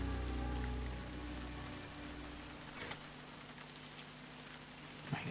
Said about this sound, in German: Jetzt sind wir hier in England, aber warum regnet das die ganze Zeit?